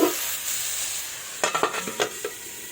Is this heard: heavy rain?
no